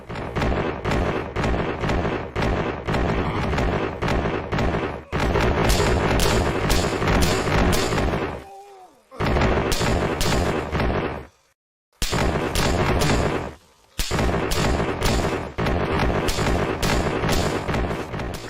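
Bradley fighting vehicles firing continuous suppression during an infantry trench assault, a dense, loud rapid stream of repeated bursts with brief gaps, heavy and sustained throughout.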